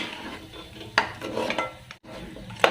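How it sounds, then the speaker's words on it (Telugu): Turmeric and chili powder being stirred into mutton curry in a pot, with soft scraping and a few clinks of a metal spoon against the pan, faint and close. "పసుపు కారం వేసుకున్నాం కదా, మంచిగా కలుపుకోవాలి ఒకసారి ఇలా"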